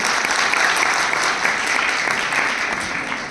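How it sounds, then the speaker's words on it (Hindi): Loud, dense audience applause fills the room steadily throughout, many hands clapping at once with no pause. "एक बार जोरदार ताली हो सकती है"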